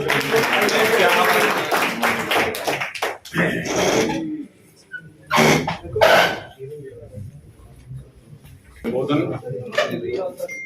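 Crowd clapping at a village felicitation gathering for newly created panchayats: a thick burst of applause for about three seconds that breaks off, then someone speaks with a few scattered claps and pauses between his phrases.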